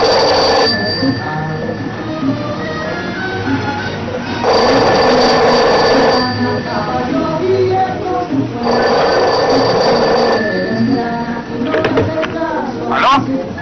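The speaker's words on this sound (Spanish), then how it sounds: "Está sonando el teléfono del señor, ¿no oyes?" An old telephone bell rings in two long bursts inside a Peruvian home in a 1990 film, clear and fairly loud against background voices and room noise, followed by a couple of short higher chimes.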